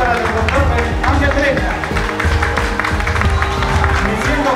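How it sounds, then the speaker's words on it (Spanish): Audience at a company event for Dr. Ángel Breña and his products applauding, dense steady clapping from a crowd, loud and close, mixed with a voice speaking over it. "Un fuerte aplauso para el doctor Ángel"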